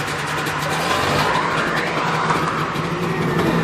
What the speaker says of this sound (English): He's spinning the tires in the truck.